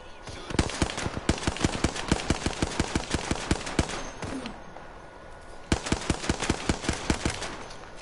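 Rapid bursts of automatic gunfire in the battle royale game Apex Legends, loud and close, with a brief lull before the firing resumes in sharp repeated volleys.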